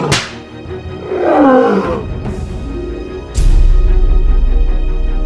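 A lion roars in a cartoon scene set among vineyards, a loud rising growl followed by a second deep roar with a heavy low rumble, no talk over it.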